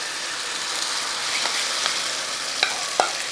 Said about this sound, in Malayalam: നന്നായിട്ട് ചൂടായതിനു ശേഷം നമുക്കിത് അങ്ങോട്ട് ഒഴിച്ചു കൊടുക്കുക